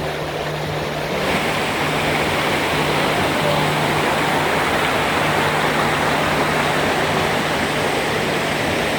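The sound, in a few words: water flowing down a rainforest waterfall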